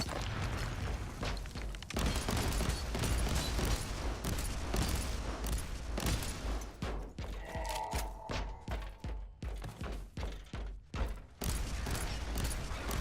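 Bolter frag-burst fire in the game Warhammer 40K: Inquisitor - Martyr, loud dense volleys of booming shots, with rapid stuttering bursts toward the end, all close and continuous.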